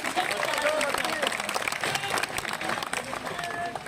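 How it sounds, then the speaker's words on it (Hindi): Audience at a Holi and International Women's Day kavi sammelan clapping in approval, a busy continuous patter of many hands with some crowd murmur and voices mixed in. "एक बार तालियां बजाकर स्वीकृति"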